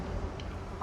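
Chickens in a coop in the video game 7 Days to Die, with a couple of short clucks over a low steady background rumble.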